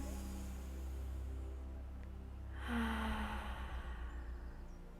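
A slow, deep in-breath during a guided relaxation session, rising as a soft airy rush partway through and continuing as steady breathing over low background hum; no speech.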